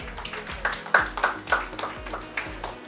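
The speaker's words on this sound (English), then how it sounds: "A round of applause," Handclapping at a Nigerian entertainment awards ceremony, greeting the Nollywood Big Personality of the Year honoree: distinct, fairly loud claps landing in an uneven beat over a low rumbling background.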